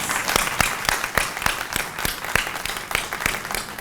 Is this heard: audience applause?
yes